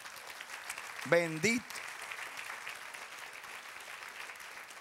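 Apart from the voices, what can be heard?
congregation applause in church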